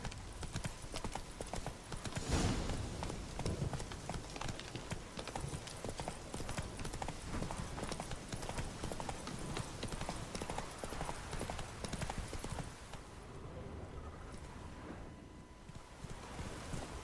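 Roach the horse gallops in The Witcher 3: Wild Hunt, a steady rapid clip-clop of hooves over constant wind and ambient rush, continuous and fairly loud throughout.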